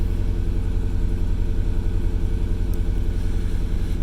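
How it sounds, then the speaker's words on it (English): A third-generation Chevrolet Camaro sits idling with its engine running steadily at close range, giving a continuous low rumble with a regular pulse and no one talking. "Normally I'd let this idle up, get up some temperature in it"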